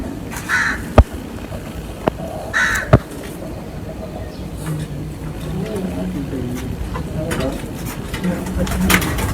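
A champion Haripur pigeon coos and calls in short bursts among other birds while people talk nearby, with a few sharp clicks and knocks in between.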